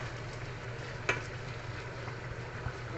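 Chopped onions frying in a pan for a lentil rice dish, a steady soft sizzle with faint stirring scrapes and one brief clink, no talking.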